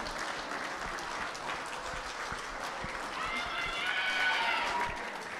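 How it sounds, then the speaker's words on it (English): Audience applause for contestant number one at the Miss Samoa Pageant 2021, a steady wash of clapping across a large crowd that swells near the end, with whoops or cheers rising over it. "How about a big round of applause for your contestant number one?"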